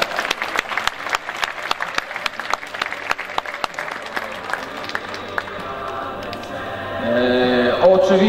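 Audience clapping at a tournament award ceremony, a sparse round of claps at first that thickens into steady applause, with a speaker's voice entering near the end.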